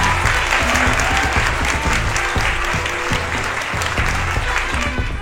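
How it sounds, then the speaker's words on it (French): A studio audience on a French talk show bursts into steady, full applause to welcome two guests, a loud continuous wash of clapping with low crowd murmur and a few voices underneath. "Et je vous demande donc d'applaudir Lio et Dora Moutot."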